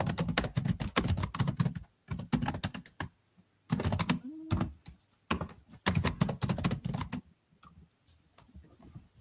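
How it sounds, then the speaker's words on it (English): Quick bursts of typing on a computer keyboard, rapid clattering keystrokes in several runs broken by short pauses, close and clear with no voices. "I'm typing it into the chat so you can get a clear answer from me"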